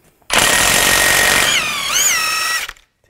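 A power tool, likely an impact wrench, removes the front axle nut with a 32 mm socket on a 2011-2019 Ford Explorer during CV axle replacement. It runs as one loud continuous whir lasting over two seconds, rising in pitch near the end before stopping.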